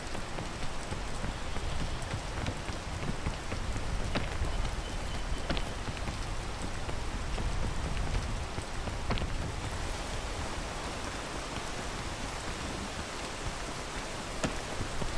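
Steady rain pours down throughout a strategy video game round, a dense, even hiss with occasional sharper drop ticks, fairly close and unbroken, with no voices over it.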